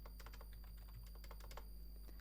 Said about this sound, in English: by typing the command VLAN 20 and then name it voice